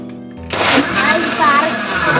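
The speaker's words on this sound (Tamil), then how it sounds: "இனி நம்ம கேப்பை வச்சு அடைச்சிட்டு மிக்சியில் அரை போகலாம்" Electric mixer grinder blending a banana milkshake, starting abruptly and running as a loud, steady whir with no talk over it.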